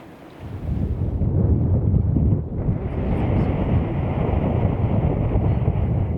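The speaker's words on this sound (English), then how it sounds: "it sure has gotten windy" Strong, gusty wind from a thunderstorm outflow roars across the microphone aboard a sailboat, rising abruptly after a quiet start into a loud, buffeting rush that dips briefly and then surges again, continuous with no talking.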